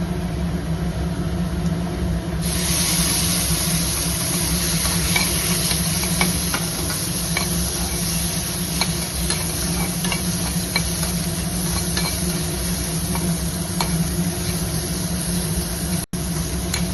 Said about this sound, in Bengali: চিকেনগুলো আমার হালকা করে সতে করা হয়ে গেছে